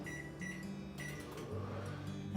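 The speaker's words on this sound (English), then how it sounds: "I'm gonna put this in the microwave" A microwave oven heating a mug of spiced apple cider gives a steady low hum with faint whirring and a few small clicks. It is quiet and continuous, and no one speaks.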